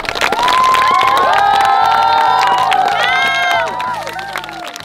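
Girls at a parkour camp are greeted by a loud, excited crowd of young voices cheering and shouting, with scattered clapping, swelling quickly and holding for several seconds before easing off.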